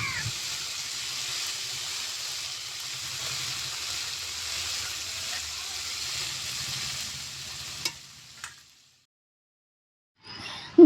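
Ginger paste and spices frying with tomato paste in a pan, a steady bright sizzle with soft stirring, close, fading out near the end before a brief clatter.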